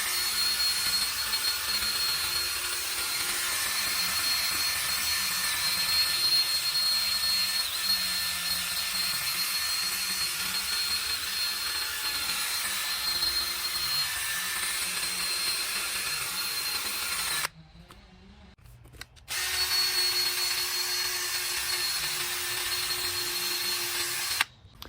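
A power tool runs steadily at higher speed while restoring a headlight with a 3M kit, a continuous loud whine that cuts out briefly near the end before starting up again.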